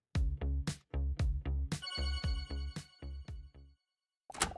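A restaurant door bell in a video game rings as a tonal ringtone-like chime, a quick run of repeated bright notes that repeats once and fades, with a short burst at the end.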